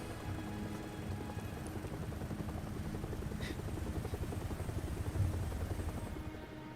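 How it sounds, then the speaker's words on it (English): An Umbrella helicopter in the video game Resident Evil 7 drones steadily with continuous rotor thrum, fairly faint and distant, holding an even level throughout without talk. "An umbrella helicopter. There it is."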